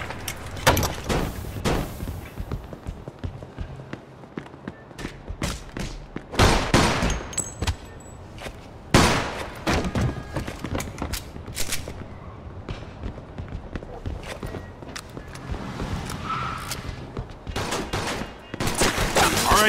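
Sustained gunfire in the Mafia 2 video game, dense volleys and single sharp shots, loud and near, with clattering debris and brief lulls, continuing for about twenty seconds.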